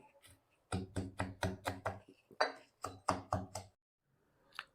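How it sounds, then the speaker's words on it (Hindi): Garlic, green chilli and roasted peanuts are pounded for a Maharashtrian onion papad chutney, a run of about a dozen dull, close thuds in quick uneven bursts, with a brief pause between groups. "अब मुझे इनको भी कूटना रहेगा।"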